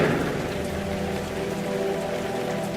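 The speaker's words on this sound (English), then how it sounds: "there was a heavy rain" Heavy rain pours steadily from a black, wind-driven sky, a dense, loud and unbroken wash of drops with no pauses.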